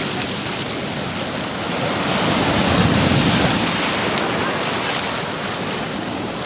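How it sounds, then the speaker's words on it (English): Ocean waves surge and splash on the California coast, a loud continuous wash of surf swelling in the middle, with wind buffeting the microphone and no talking. "I did not expect the water to splash up that much"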